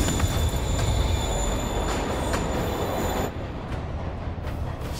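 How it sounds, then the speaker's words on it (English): A train in the Spider-Man video game rumbles along a platform with loud, steady rolling noise and high metallic wheel squeal, the sound thinning slightly as it pulls away. "Train moving."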